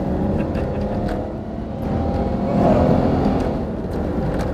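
A Ford FG ute with an LPG Barra engine accelerating hard from 0 to 100 km/h, its engine droning steadily from inside the cab and rising in pitch as it gathers speed.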